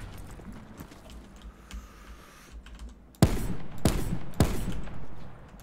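Three sharp, loud gunshots ring out in a squad battle royale shooter match, spaced about half a second apart after a quieter stretch of faint clicking and ambient game noise.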